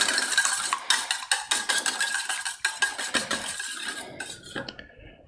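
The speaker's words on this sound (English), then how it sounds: "Just give that a little bit of a stir through." Metal utensil clinks and scrapes against a bowl while vanilla is stirred into pancake batter, a quick run of close, bright taps and clatters with no talking.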